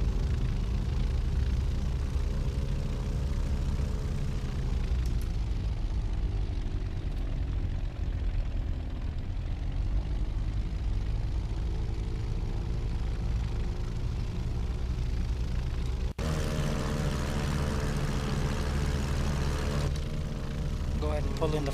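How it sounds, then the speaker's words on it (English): A fixed-wing aircraft taxiing on the runway after landing on a Mumbai to Bhavnagar flight, its engine a constant loud droning rumble with a slowly shifting hum and a sudden change in tone near the end. "I'll go ahead and continue taxiing to the end where I can get off the runway."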